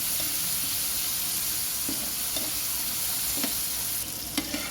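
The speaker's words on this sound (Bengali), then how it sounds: "এবার আমি মাছের জন্য গ্রেভিটা রেডি করছি" Gravy for a pabda fish curry sizzles and fries steadily in a pan right after the fish has been fried, with occasional stirring scrapes and soft clinks over a constant hiss, close and without talk.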